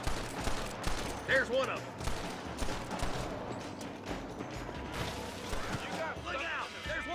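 Gunfire in the video game Red Dead Redemption during a shootout around an outhouse, rapid overlapping shots and cracks throughout with someone shouting over them.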